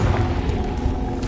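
A Confringo fire spell explodes in Hogwarts Legacy, a short loud rumbling boom with crackling impact, close and alone.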